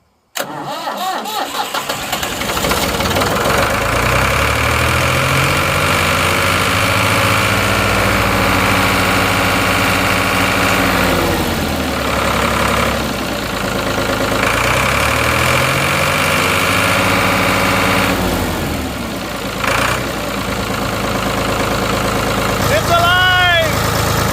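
A Ford 4500 backhoe's heavy diesel engine cranks, catches and roars at full throttle, its pitch rising and falling in repeated surges, loud and close.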